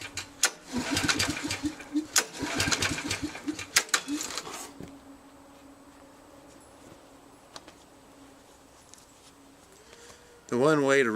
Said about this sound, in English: I got to use a generator. It powers it perfectly, but it's just a little noisy.